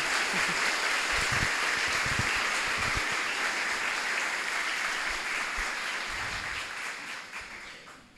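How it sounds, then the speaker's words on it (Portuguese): Broad, continuous clapping from a gathered audience at a Brazilian talk, honoring the helpers, steady and fairly loud before tapering slightly near the end. "Palmas para eles, gente"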